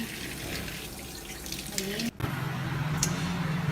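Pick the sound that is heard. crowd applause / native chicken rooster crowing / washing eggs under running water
washing eggs under running water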